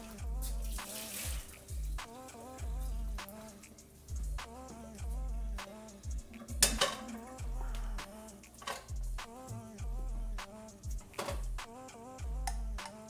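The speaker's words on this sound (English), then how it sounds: "I'm going to empty the water here now" Water pours from a cooking pot into a sink while making fettuccine Alfredo, a steady splashing run with clattering knocks and ticks throughout, no talking.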